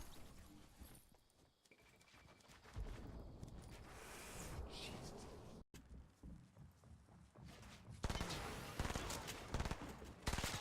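Rapid gunfire and shotgun blasts in an online shooter video game, a dense run of loud shots with scattered footstep-like noise; brief quiet near the middle, then heavy firing resumes toward the end.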